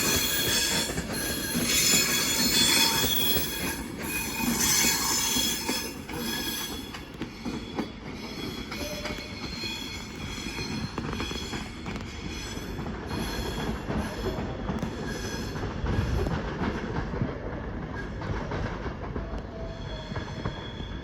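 Train passing through Crewe station on the West Coast Main Line, with loud high wheel squeal and rumbling rail noise that rises and fades over about twenty seconds, with no voices.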